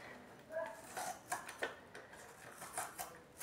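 Knife chopping an onion lengthwise on a cutting board, with a series of light, irregular taps and knocks close by, quiet and without talk.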